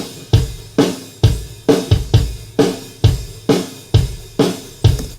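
A drum track from a self-produced song plays back alone: punchy kick and snare hits in a steady, even groove, about ten strong beats over five seconds with bright cymbal wash between them, loud and close.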